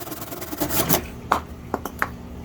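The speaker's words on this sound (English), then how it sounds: "Cut through there pretty good. This is the Rexbeti folding saw, 11-inch version." A Rexbeti 11-inch folding saw cuts through a section of dying tree branch held in a clamp, making a few short, close rasping strokes with brief pauses between them.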